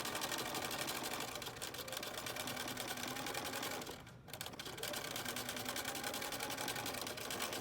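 A sewing machine stitches a fabric face mask with rapid, continuous mechanical clatter that is close and steady, dipping briefly midway before carrying on at the same pace.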